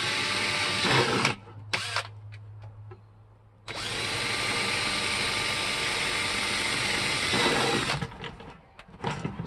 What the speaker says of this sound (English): I'm going to go ahead and take a drill, and I'm going to drill like holes